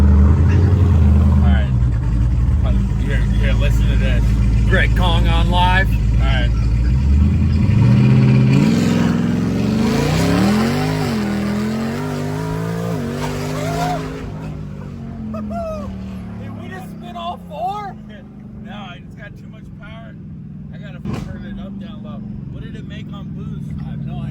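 A car fitted with a KONG 2650 supercharger on a 3.5 pulley launches: a loud engine roar rises and sweeps upward in pitch as it accelerates, then fades into a quieter tail, with a dog barking and people talking around it.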